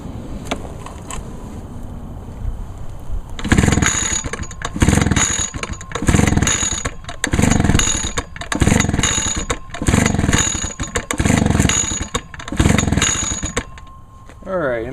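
Echo two-stroke outdoor power equipment engine with a choke and no primer, pull-started in a series of about eight rhythmic cranking bursts that sputter without catching, close and loud.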